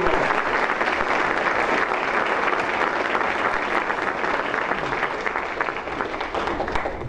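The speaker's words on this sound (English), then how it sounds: "Let's give the candidates a round of applause." An audience at a political candidates' debate gives sustained, loud applause, a thick continuous roar of clapping that holds steady throughout with no talk.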